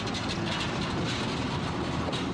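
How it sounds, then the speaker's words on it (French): Diesel locomotive hauling the Lézard Rouge train in Tunisia, a loud continuous rumble with clattering wheels on the track, close and steady throughout with no voices. "On attelle la locomotive diesel à l'autre extrémité du train pour le voyage retour."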